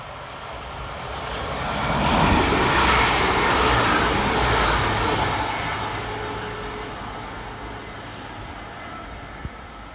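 A West Midlands Railway class 196 diesel multiple unit runs through Dudley Port station on a Shrewsbury to Birmingham New Street service, its rumble swelling close and loud, then easing off as it passes.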